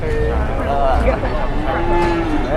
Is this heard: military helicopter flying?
no